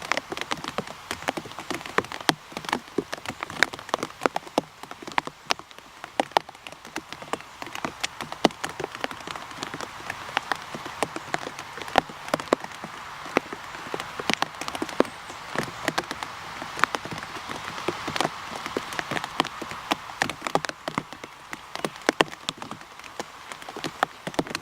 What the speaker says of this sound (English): It just keeps raining.